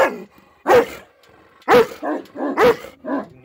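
A dog barks loudly and close by in a series of about six sharp barks, some in quick pairs, with brief pauses between them and nothing else audible.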